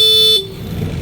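The stock horn of a Honda Click 160 scooter gives one short, loud, steady tone that cuts off sharply after a fraction of a second, leaving low engine rumble.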